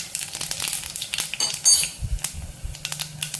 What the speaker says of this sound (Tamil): எண்ணெய் காஞ்சிருச்சு, கொஞ்சமாக சோம்பு சேர்த்துக்குவோம்.